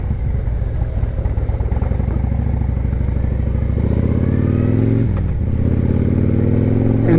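Harley-Davidson motorcycle cruising on back roads: a loud, steady, pulsing V-twin engine throb close to the mic, with the pitch climbing through gear changes partway through and a brief dip around five seconds, no talking.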